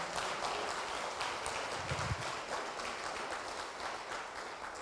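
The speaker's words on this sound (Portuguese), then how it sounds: "eu quero dar uma salva de palmas para o Senhor" A church congregation claps together in a dense, steady round of applause that holds at an even level for the whole stretch, with no voices rising above it.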